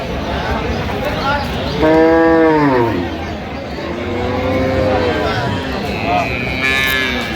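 Cattle moo loudly at a livestock market in Aftabganj, Dinajpur, where dairy cows and calves are sold; several drawn-out moos rise over a steady crowd murmur.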